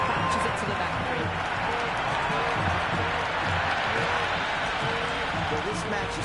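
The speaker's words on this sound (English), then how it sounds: "the crowd has joined the party. It's pretty noisy at the ground." A cricket video game crowd roars steadily at the ground, a dense continuous wash of cheering and clapping that runs throughout at constant loudness, with a commentator talking over it.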